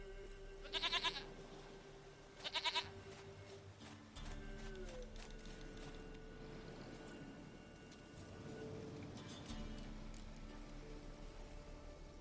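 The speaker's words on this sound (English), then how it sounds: "Goat of mine, dearest," Goat bleats in The Witcher 3 game: two short, loud bleats come in quick succession near the start, then soft ambient game sound continues with no further calls.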